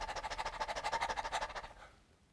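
A storyteller imitates a coyote panting with his own voice: about twenty quick rhythmic breathy huffs in a steady run for nearly two seconds, close and clear, then fading out.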